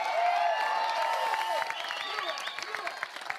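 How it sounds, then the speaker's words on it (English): A tennis tournament audience applauds, with a steady patter of clapping mixed with raised voices and whoops, while the applause thins toward the end. "Let's give a big round of applause to Pablo"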